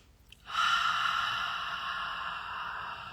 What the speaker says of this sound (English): exhale out the mouth